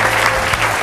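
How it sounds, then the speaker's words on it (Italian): Audience applause at a live Forlì sports show, a short loud burst of dense clapping from a crowd close by, with a low hum underneath. "facciamogli un applauso"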